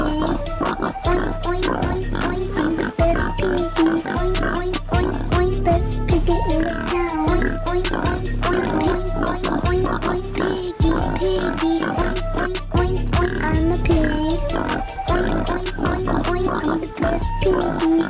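A voice imitates a pig, oinking in quick repeated grunts throughout, loud and close, mixed with sung or spoken words.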